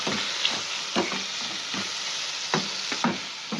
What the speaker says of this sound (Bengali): তো দেখো ভাজা ভাজা হয়ে এসছে